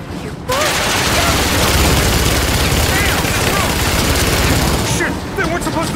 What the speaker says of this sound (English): They weren't supposed to shoot at us!